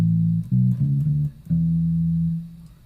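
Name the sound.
note played piano, soft dynamic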